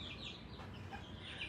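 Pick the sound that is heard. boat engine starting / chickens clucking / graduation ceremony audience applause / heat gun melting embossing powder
chickens clucking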